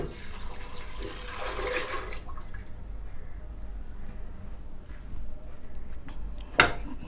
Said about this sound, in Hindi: और 3 प्याले पानी के शामिल करना है आपने